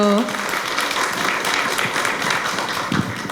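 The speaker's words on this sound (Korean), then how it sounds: "큰 박수 보내주십시오" Audience applause at a talk concert with Sejong City's mayor, a dense, steady clatter of many hands filling the room, with a voice briefly heard at the start.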